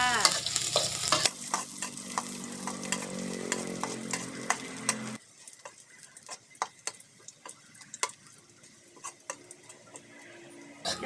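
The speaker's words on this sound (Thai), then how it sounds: "หลังจากนั้นก็ใส่กระเทียมที่เราสับลงไปนะคะ ผัดให้หอมค่ะ" Chopped garlic stir-fries in hot oil in a pan for a Thai stir-fry of chicken blood with spring onions and garlic chives, a steady close sizzle with frequent scraping and clicking stirring strokes, louder at first then quieter, with no talk.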